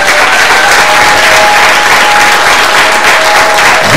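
A large audience claps for two guests asked to stand, thick, loud and unbroken applause from a big crowd, with faint cheering or a sustained voice threading through it.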